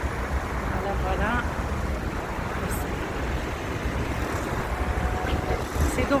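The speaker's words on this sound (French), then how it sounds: "il y a trop de circulation, il y a trop de vent" Strong gusting wind at a seaside beach town buffets the microphone in a continuous roar, with a low rumble of passing traffic underneath and a voice faintly present.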